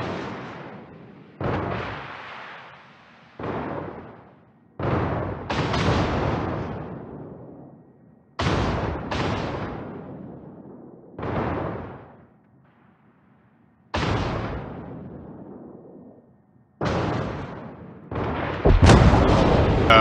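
Naval guns fire in the warship battle game World of Warships, with about nine heavy, booming salvos at irregular intervals, each followed by a long rumbling decay.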